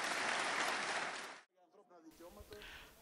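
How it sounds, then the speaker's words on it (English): A crowd gathered outside the Greek Parliament after a vote cheers and applauds in a dense, loud roar that cuts off abruptly halfway, followed by quieter murmuring and a voice. "When the final tally was announced, the crowd erupted."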